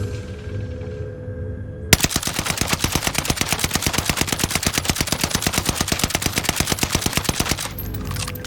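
An NZ-41 rifle in a shooter video game fires a long, even full-auto burst of rapid, evenly spaced shots that starts suddenly and runs for over six seconds, loud and close, after a short quiet lead-in.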